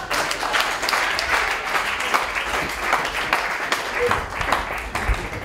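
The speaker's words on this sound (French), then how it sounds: "Applaudissez là, la bavarde." Audience clapping at a French stand-up comedy show, a steady mid-level burst of applause lasting several seconds with faint voices mixed in.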